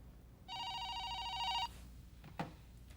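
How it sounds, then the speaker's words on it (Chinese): A household telephone rings once in a single sustained electronic trill, clear and close, followed by a brief knock and quiet room tone. "顺昌你的电话。"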